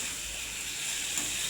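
Jackfruit and potato sauté in spice paste in a pan, giving a soft, steady sizzle and hiss that runs evenly throughout at low volume, with no voices.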